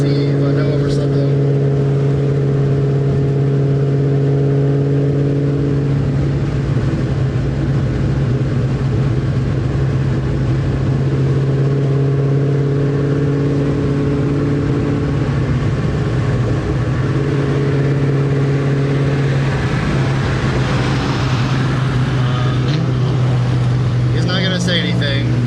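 A 2-valve Ford Mustang Cobra engine downshifts on the road behind the car, a steady droning tone with distinct revving steps, heard close and fairly loud under a voice talking.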